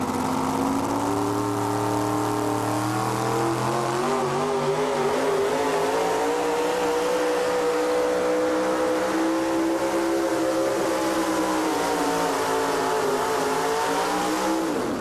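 A pulling tractor called the War Wagon roars at full throttle during a tractor pull in Hillsboro, Wisconsin, its engine loud and sustained with shifting pitch for the whole run.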